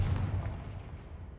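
Confringo blasting spell explosion in the video game Hogwarts Legacy, a single heavy booming blast fading into a low rumbling tail, loud and close.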